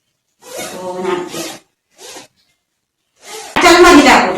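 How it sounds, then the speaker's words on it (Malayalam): A zipper on a netted baby bed is pulled shut in a few quick, close bursts, ending in one loud, sustained zip. "ഇതിങ്ങനെ വെച്ചിട്ട് നമ്മള് സിബ് അടയ്ക്കണം."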